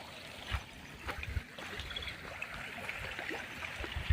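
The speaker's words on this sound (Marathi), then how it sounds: "इकडे बघा असं पाणी आलेलं आहे याला नाला म्हणतात" A rain-fed stream (nala) flowing near a farmhouse, a faint steady trickling and gurgling of water with occasional soft splashes and knocks.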